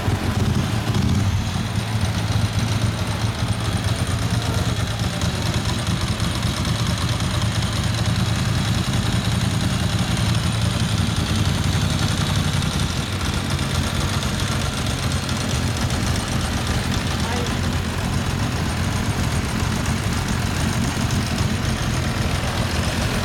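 A 2013-model motorcycle engine idles steadily for over twenty seconds, a low, continuous rumble with a faint change in tone partway through.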